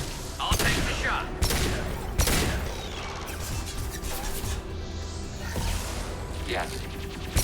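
Gunfire from the video game Mass Effect 2 cracks as repeated sharp shots and rattling bursts, with a few heavy impacts standing out, while a player talks over the action.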